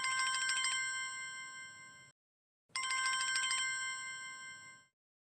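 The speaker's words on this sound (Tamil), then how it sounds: "பெரியாத்தா கிட்ட இருந்து ஃபோன் வருது" A telephone rings for an incoming call in two long electronic trilling bursts separated by a short pause, bright and steady, with no one speaking over it.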